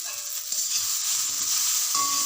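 Chopped eggplant tipped into beans and potatoes already frying with salt and turmeric in a pan, giving a steady low sizzle with soft stirring and shuffling, near and fairly quiet.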